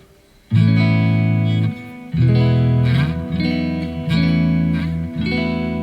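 Sustained electric guitar chords through a Neural Nano Cortex amp modeler preset ring out loud and clean with effects, each held for about a second before the next chord, no talking.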